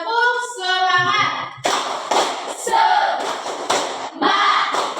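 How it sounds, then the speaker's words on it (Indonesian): A class claps a rhythmic tepuk semangat cheer in a classroom, sharp patterned hand slaps in bursts under children's voices and chanting. "Tepuk semangat."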